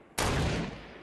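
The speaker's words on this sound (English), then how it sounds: "they're shooting at the other team" Fortnite gunfire erupts suddenly as a loud, dense burst of shots that holds steady and then slowly tails off, with no voices over it.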